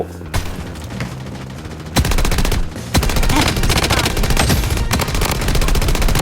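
Rapid bursts of KAG-6 automatic rifle fire in the shooter game Blood Strike, loud and nearly continuous with a brief gap, with faint voices underneath.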